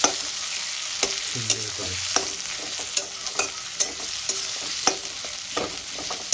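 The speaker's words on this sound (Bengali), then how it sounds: "পেঁয়াজটাকে আমি বাদামি করে ভেজে নেব" Thin slices of two medium onions fry in hot oil with a steady sizzle, as a spatula scrapes and stirs them in regular, close strokes; a voice briefly speaks over the cooking.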